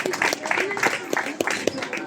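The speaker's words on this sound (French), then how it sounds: "On les applaudit bien fort, s'il vous plaît." An outdoor campsite audience applauds the Nice team after a tournament placing, dense clapping running throughout with talk mixed in.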